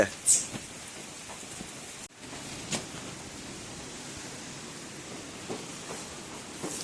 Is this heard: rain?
yes